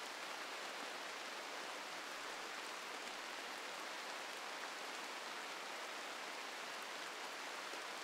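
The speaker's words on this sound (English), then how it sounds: "you guys should be hearing rain" Steady rain in a RimWorld game, a dense continuous hiss of falling drops on surfaces that stays even throughout with no voices.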